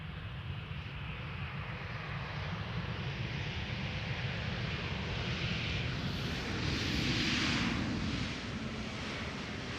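Airplane arriving at Amsterdam Schiphol Airport, a broad steady jet roar with wind-like noise that swells slightly toward the end, continuous and moderately loud.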